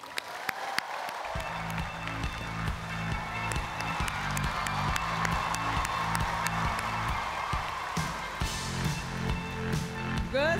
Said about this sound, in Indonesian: Kita kasih tepuk tangan yang paling meriah untuk Wakil Gubernur Jawa Tengah, Gus Yassin.